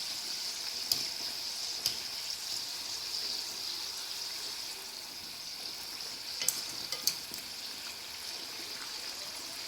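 Coconut shingolya deep-fry in oil over a medium flame with a continuous bubbling hiss. A few sharp clicks and pops rise above the steady sizzle, and nobody speaks.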